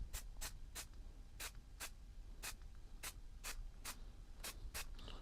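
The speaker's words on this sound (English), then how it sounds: "I'll paint directly onto these damaged painted area" An aerosol can spray-paints the damaged top lid of a Dell Latitude laptop in a string of short, sharp hissing bursts, close and moderately loud, with no talk.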